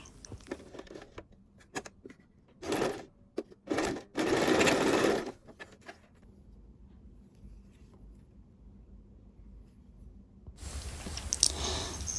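Sewing machine stitching the lining fabric at the hem of men's trousers: short bursts of rapid mechanical whirring separated by pauses, then a longer run near the end, close by, with no talking.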